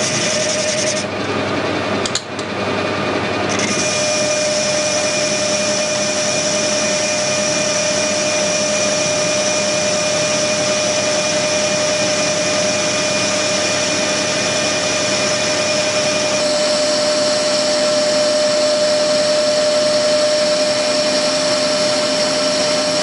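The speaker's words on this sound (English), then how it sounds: "Right, we've got a suitable piece of bar in the lathe." A metal lathe turns a 3-inch bar for a high-pressure flange, a loud steady mechanical whine with a constant tonal hum; a brief burst of hissing air near the start, and the drone continuing unbroken to the end.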